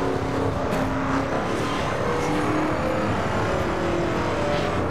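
A car in The Crew Wild Run racing game accelerates hard over a bridge, its steady, loud engine roar filling the scene with a continuous rushing drone and no pause.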